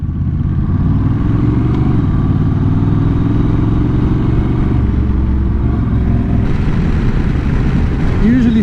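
A Honda Rebel 1100 DCT cruiser motorcycle runs steadily around a racetrack, its engine a loud, even drone with wind rush that climbs slightly near the end.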